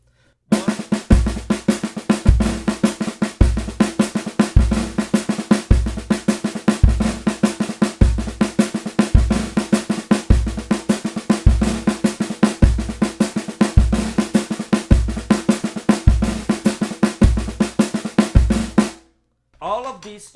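Samba groove on a drum kit played with sticks instead of brushes, a steady driving pattern of regular accented hits repeating for about eighteen seconds, loud and close, then stopping.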